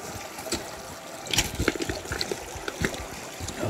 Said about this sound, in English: It's a nice little creek.